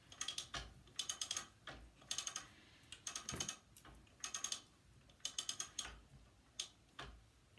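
A longarm quilting machine advances across quilt fabric, a quiet series of clicking, ratcheting bursts in short irregular groups with brief pauses between them.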